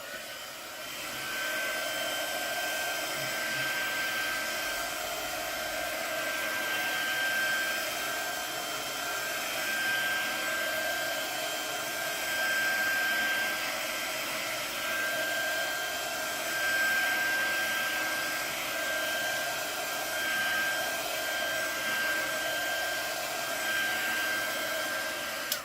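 Hair dryer or heat tool drying a painted journal page, a steady loud blowing whir with a high whine that runs continuously throughout, without talking.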